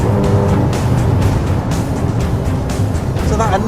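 A 2013 Porsche Boxster S and a 2012 Porsche 911 Carrera (991) launch and accelerate hard, a loud, continuous engine roar with a faint tire squeal near the end.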